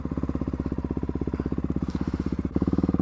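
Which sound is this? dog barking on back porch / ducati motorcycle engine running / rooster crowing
ducati motorcycle engine running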